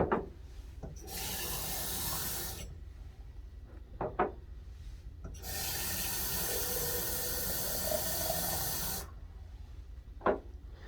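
Water is poured from a tap into two pitchers in a church sacristy, with two long bursts of steady rushing flow, a few knocks and clinks of the vessels between them and after.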